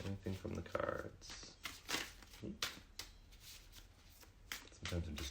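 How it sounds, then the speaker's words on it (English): A deck of cards is shuffled by hand in several quick riffling bursts, close and crisp, with brief pauses between them and a voice speaking in the background. "Sometimes I'm just too good at shuffling,"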